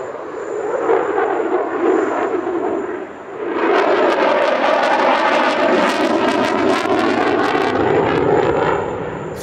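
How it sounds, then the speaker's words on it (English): An Emirati Air Force F-16E fighter flies a display at the Dubai Airshow, its loud jet roar dipping briefly before surging back stronger and harsher, then holding at full, rasping power overhead. "The F-16E is the second most advanced version of the F-16 globally"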